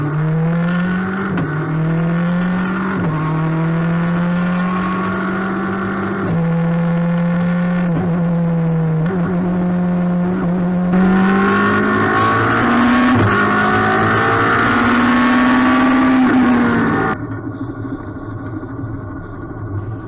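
A Radical race car laps the Brands Hatch circuit, its high-revving engine droning loud and close, pitch rising and dropping through gear changes and corners, with a harsher surge of acceleration near the end.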